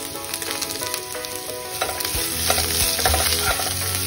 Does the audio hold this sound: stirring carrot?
yes